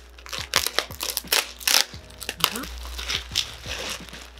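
Plastic packaging around a pair of boots crinkles and rustles in close, irregular bursts as it is cut open with scissors, with a few sharp snips and handling noises between them.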